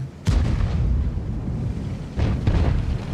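Tank gun fire in the video game World of Tanks, two heavy booming blasts about two seconds apart, each followed by a rumbling tail.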